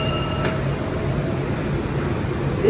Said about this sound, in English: This is a Brooklyn-bound M local train